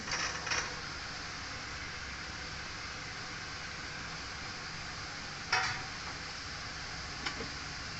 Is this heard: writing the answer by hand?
no